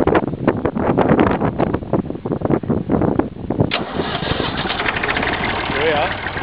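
A Massey Ferguson 135 tractor with a 2.5-litre three-cylinder diesel cranks in loud rhythmic pulses, then catches and settles into a steady, close idle, with wind buffeting the microphone.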